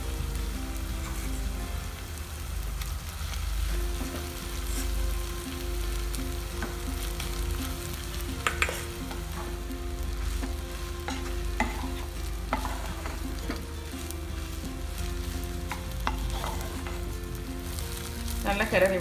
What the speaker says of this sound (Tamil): நல்லா கிளறி விட்டுட்டு இறக்கிடலாம்